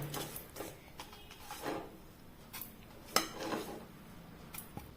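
Roasted semolina (rava) is scraped from a kadai onto a plate, with a metal spoon clinking and scraping against the pan in several sharp, irregular strikes, close and moderately loud.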